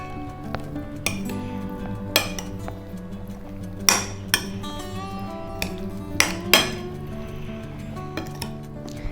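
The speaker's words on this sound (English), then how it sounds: "1 tablespoon of garlic, olive oil, we're gonna give it a mix." Potatoes being tossed with garlic and olive oil in a metal tray, sharp ringing metallic clanks and clinks at irregular intervals over a quiet, faintly humming background.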